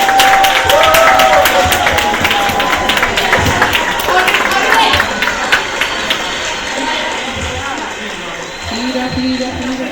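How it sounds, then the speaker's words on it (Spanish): An audience at a festival game-show contest claps for a helper, a dense burst of applause that gradually thins out, with a voice talking over the crowd. "Un aplauso para Belia de Sada"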